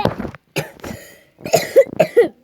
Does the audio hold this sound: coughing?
yes